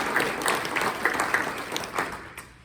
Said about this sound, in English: let's just give a moment of applause to thank those who are already part of the Legacy Society